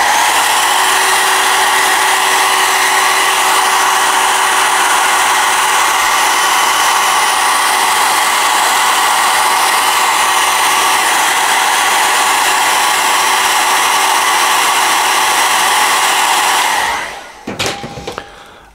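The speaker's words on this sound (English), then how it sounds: "let's just give that a quick blast with the hairdryer" A hairdryer blows steadily on a freshly painted model figure, a loud continuous broadband whoosh with a faint steady hum, running unbroken for about seventeen seconds before cutting off abruptly, followed by a few small clicks.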